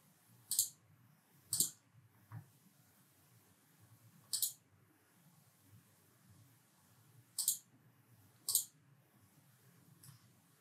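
Sharp computer mouse clicks while setting up fields in Zoho Forms, arriving singly and in pairs at irregular intervals over a quiet room hum, close and distinct.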